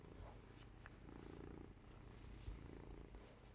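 A very fluffy cat named Hubble purrs up close, a steady low rumbling drone that continues without a break, with one small knock partway through.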